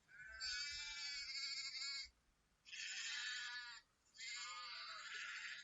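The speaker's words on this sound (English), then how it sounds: "this is a sheep" A sheep bleats three times on a farm. Each call is a loud, quavering cry, separated by short pauses, with no other sound around it.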